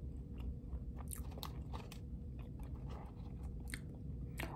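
Close chewing of crunchy seasoned fries, with a series of sharp crisp bites and crunches in an irregular rhythm over a low background rumble, quiet and without talk.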